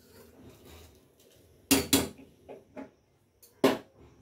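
A pot of rice, cooked about 80 percent for chicken biryani, is lifted off a home stove with a few sharp metallic clanks and scrapes of the pot against the burner, separated by quiet pauses.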